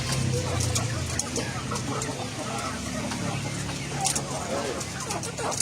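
A fighting rooster in Indonesia clucks and calls repeatedly at close range, with steady farmyard background noise throughout.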